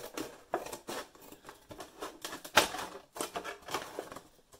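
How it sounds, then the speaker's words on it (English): Repeated crisp snipping and crunching of scissors cutting through a stiff plastic milk bottle, in quick irregular bursts, close up. "you can just get your scissors in here, just go round like so"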